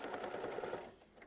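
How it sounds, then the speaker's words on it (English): A sewing machine stitching fabric to tack down a quilt block piece, a faint, steady, fast mechanical whir that trails off at the end. "you're going to sew machine stitch step 5, which is just going to tack this piece down"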